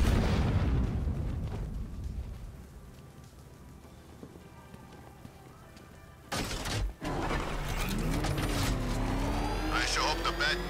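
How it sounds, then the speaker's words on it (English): A video game explosion in Batman: Arkham Knight, heard as a sudden loud burst after a quieter rumbling stretch, followed by sustained roaring, crackling debris and mechanical noise. "I sure hope the bat died in that explosion."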